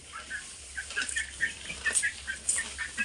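Farm hens cluck in a quick, repeating series of short calls, a nearby pair released from their coop, fairly close with no talking.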